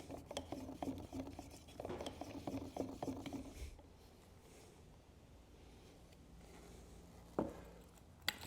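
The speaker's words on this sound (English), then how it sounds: "Giving it a really good stir to make sure that I get all of those solids in the bottom stirred up." Topside paint being stirred vigorously in a can to lift settled solids, giving a run of quick scraping, clicking strokes that stops partway through, then quieter handling and a single sharp knock near the end.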